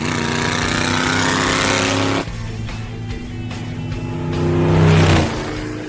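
A Subaru Legacy cruises on a Los Angeles highway in heavy traffic, its engine a steady close drone that drops away abruptly, then swells again into a louder push before easing off.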